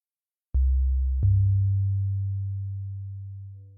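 An OpZilla FM synthesizer plays a sustained tone built from operators modulating each other, two sharp note attacks followed by a smooth steady hum that slowly fades, alone with no speech.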